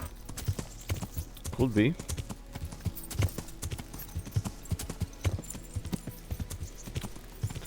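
Horse hooves clip-clopping in a steady gait in Kingdom Come Deliverance, with a horse ridden with spurs. A short whinny rises near the start, and someone talks over the sound.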